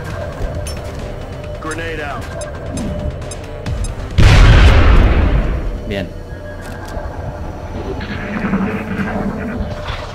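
A loud, deep explosion booms in the strategy game XCOM: Enemy Within, rumbling for about two seconds amid game sounds while someone talks.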